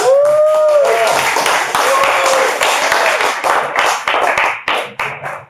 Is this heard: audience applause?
yes